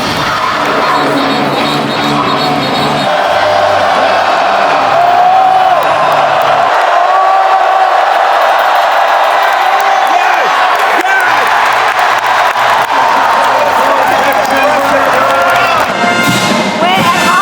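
A packed crowd at a Virginia State game halftime roars and cheers in a loud, steady wash of voices with whoops and claps, sustained throughout.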